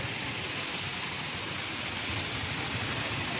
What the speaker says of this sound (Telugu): భయంకరంగా వస్తుంది వర్షం